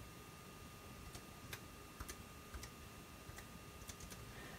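Fingers tap out a new password on a computer keyboard, a sparse run of light clicking keystrokes spaced unevenly over a steady low background hiss, close and fairly quiet.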